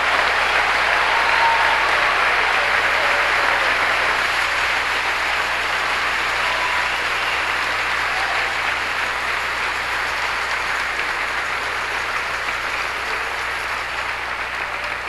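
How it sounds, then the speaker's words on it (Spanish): A church congregation applauds, steady dense clapping that carries on for about fifteen seconds with a slight fade toward the end, loud and close. "Los que creemos esto, démosle un aplauso al Señor."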